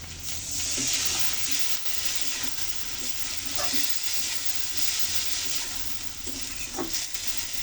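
Spice paste with chilli powder and a splash of water sizzling steadily in a pan for sajna flower shukto, close and continuous, with faint stirring scrapes now and then.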